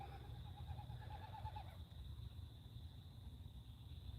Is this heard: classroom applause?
no